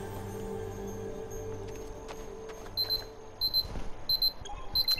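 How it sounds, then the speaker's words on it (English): An alarm in Star Wars Jedi: Fallen Order beeps in repeated high double pulses. Steady game ambience and low rumbling run under it. "Oh, that's the alarm."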